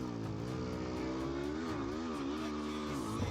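A motorcycle engine keeps running steadily as the rider crosses a river in North Luangwa, a loud continuous drone with slight rises and falls in revs.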